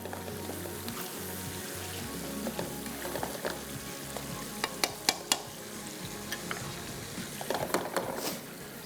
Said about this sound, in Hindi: फिर अदरक डाल के जो हमने इसकी अच्छे से करनी है भुनाई।